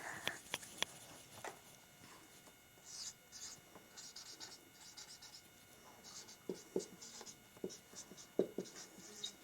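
A pen writes out a maths working on rational numbers in short scratchy strokes and taps, some clear and some faint, spaced irregularly across the clip over a quiet background.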